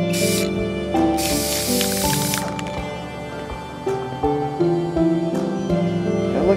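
Aerosol paint is sprayed onto a wooden Minecraft Enderman figure, producing a close, loud burst of spray hiss followed by shorter hissing squirts, with music playing underneath throughout.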